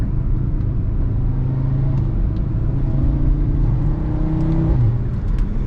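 An Audi engine revs and rumbles steadily with rev-matching downshifts, a continuous loud drone with slight rises in pitch, heard from close by with no talking.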